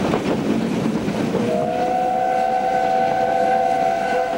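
A steam locomotive runs along the railway with a rumbling, chugging start, then a sustained whistle sounds loudly and holds steadily to the end.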